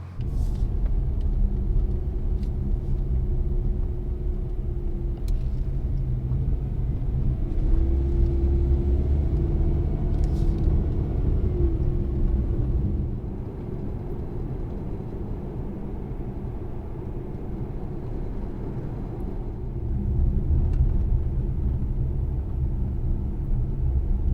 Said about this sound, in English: I guess I'll have to take the family car because I have to pick up the kids, so let's go.